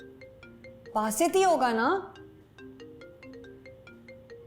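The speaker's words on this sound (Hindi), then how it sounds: "फोन आ रहा है तुम्हारा" A mobile phone plays a melodic, repeating electronic ringtone for an incoming call, moderately loud and steady. Someone briefly speaks over it.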